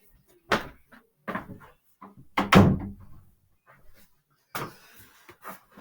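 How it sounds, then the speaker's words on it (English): A room door is pushed shut indoors, giving a few close wooden thumps and rattles spread over several seconds, with a final latch-like knock and brief scraping, and no talking. "one second, I gotta close my door."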